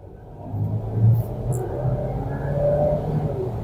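Engine note of a 2025 Dongfeng Aeolus Mage Turbo compact crossover at full throttle in normal mode, a steady low rumble and whir that swells and builds as the car accelerates, heard from inside the cabin with no talking.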